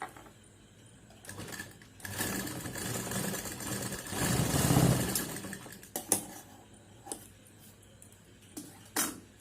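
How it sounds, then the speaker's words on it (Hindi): A sewing machine stitches fabric for a face mask, running in a short burst that builds to a steady close whirr for a few seconds, then stops, followed by faint clicks and handling sounds, with no talking. "इस तरह से मिलाते हुए यहां से सिलाई देंगे।"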